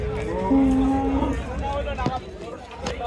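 A Red Friesian dairy cow at a busy cattle market gives a short, deep moo, heard close amid crowd noise and someone talking over it.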